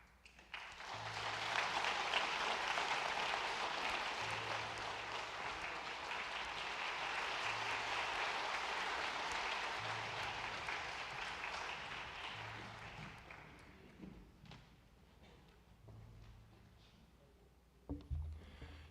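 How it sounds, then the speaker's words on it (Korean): A church congregation claps during a Sunday worship service as a winner's flag from a foot volleyball match is presented. The soft, distant applause swells, then fades away, leaving quiet with a single thump near the end. "먼저 교회에다가 우승기를 전달하시고 또 한번 돌아서시면 박수로 한번 격려하겠습니다"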